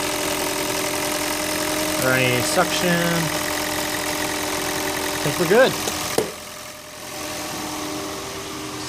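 A Toyota Prius engine runs after a spark plug change, a steady close hum under a man's speech that suddenly drops away, leaving a quieter background.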